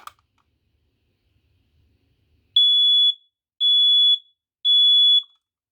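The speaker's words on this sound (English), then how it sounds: "your smoke detector will start going off" A click, then three loud, piercing electronic beeps from a photoelectric smoke alarm, evenly spaced about a second apart, in otherwise quiet surroundings.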